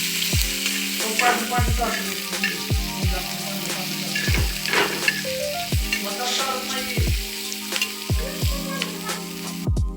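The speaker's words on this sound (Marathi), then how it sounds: "हे सगळं छान आपल्याला भाजून घ्यायचं आहे थोडंसं तेल टाकून मस्त असं" Onion and tomato roast in a little oil on a griddle, giving a steady close sizzle with repeated sharp clinks and scrapes of a spatula stirring through it; no one speaks.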